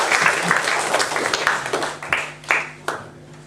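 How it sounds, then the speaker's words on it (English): An arts festival audience at a magic show applauds a volunteer returning to their seat; the dense clapping thins into a few scattered, sharp individual claps before fading out. "everyone will give you a round of applause as you go back to your seat"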